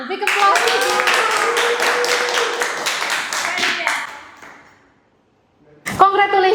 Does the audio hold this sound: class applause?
yes